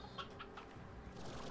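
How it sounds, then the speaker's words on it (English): Briar hens in the Slime Rancher video game cluck in a few short, bright bursts close by over a steady low background hum. "I don't really need briar hens."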